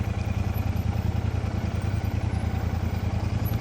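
A motorcycle engine runs steadily at idle with a close, rhythmic low throb and faint mechanical clatter, no voices.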